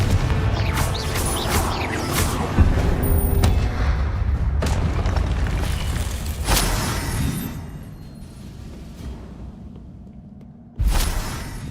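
Confringo blasting spell going off in Hogwarts Legacy: a dense, rumbling barrage of booms and whooshing magical blasts, loud and sustained, tapering off before one final sharp burst near the end.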